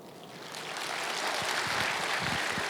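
A church congregation breaks into applause that swells from soft to full, dense clapping that carries on steadily, with a few louder claps near the end.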